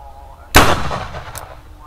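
A single sharp bang from a spirit-fuelled firecracker bursts out suddenly, followed by a crackling, hissing decay and a brief second pop.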